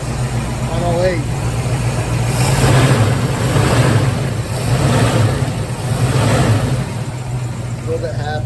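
A 1983 Ford Mustang GT V8 with a Holley 4180 carburetor, pulled from a junkyard, runs close by and loud, its engine note swelling in two revs over a steady rumble.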